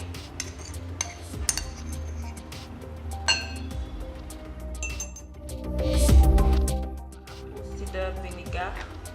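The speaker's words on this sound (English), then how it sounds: "The ginger and garlic into a glass cup." Ginger and garlic tipped into a glass cup give a series of light clinks and taps against the glass, with scattered bumps of kitchen handling, heard close up under ongoing talk.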